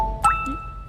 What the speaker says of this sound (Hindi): सॉरी मेरा फोन है